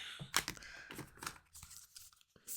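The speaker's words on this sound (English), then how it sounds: "I need to like strategize my shuffling so it's not flying all over the place." Tarot cards being shuffled by hand give quick papery riffles and scrapes in short uneven bursts, close and fairly quiet, with no talking.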